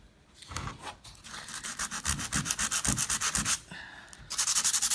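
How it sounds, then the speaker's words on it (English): Sandpaper rubs back and forth over a painted stencil piece to smooth out paint drips, a fast rhythmic scratchy rasp in close repeated strokes, with a brief pause before a final burst. "Now over here I had some drips. Didn't do a good job. So I sand that spot. Sand it out."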